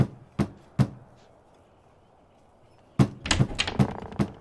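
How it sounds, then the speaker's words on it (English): Knocking on a house door in the video game Fable II: two sharp raps, a pause, then a quick flurry of louder knocks and thuds. "Knock on the door and let's see who answers."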